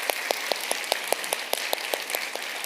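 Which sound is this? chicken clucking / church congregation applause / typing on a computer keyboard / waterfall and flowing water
church congregation applause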